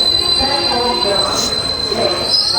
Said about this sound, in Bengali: এটা মহাকুম্ভ স্পেশাল যোশী পর্যন্ত যাওয়ার ট্রেন